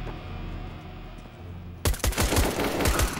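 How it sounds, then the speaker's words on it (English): A rapid burst of gunfire breaks out in a Counter-Strike: Global Offensive match, loud sharp shots in quick succession after a quieter stretch, with no talk. "He killed me with a pistol."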